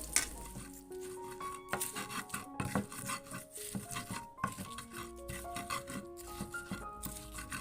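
Spice paste being sautéed in a pan, with steady sizzling and frequent stirring scrapes and clinks of a utensil against the pan, continuing without pause.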